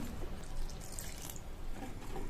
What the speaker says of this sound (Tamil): கொஞ்சம் கொஞ்சமா தண்ணி சேர்த்து மாவை கரைச்சிக்கலாம்.